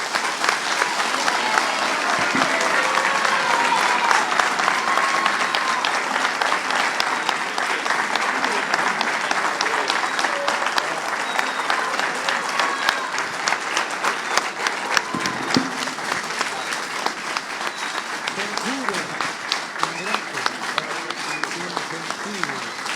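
Sustained audience applause for the president at a public event on decentralization and federalism in Uruguay, steady and dense throughout, with some crowd noise mixed in.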